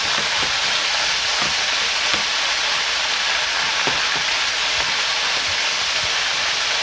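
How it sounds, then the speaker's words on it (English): Steady, dense sizzling of greens frying in hot bacon grease, with scattered sharp pops and crackles throughout; close and continuous, no voices. "Hear them greens snapping and popping with that bacon grease."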